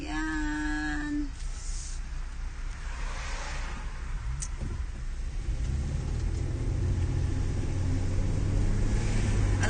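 A car drives along with a low, steady engine and road rumble that builds toward the end, close and continuous, with brief tonal sounds near the start and no one speaking.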